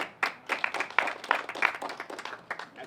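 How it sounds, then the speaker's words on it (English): A small audience at a community gathering in Duarte, California claps for local workers caring for seniors, giving short, crisp, closely spaced claps from a few nearby hands. "I would like to give them a round of applause for making a difference for our seniors"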